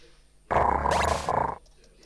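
A short, loud growling bark attack from a Pokémon in the game Pokémon Ambre bursts out for about a second, then cuts off abruptly against a quiet background.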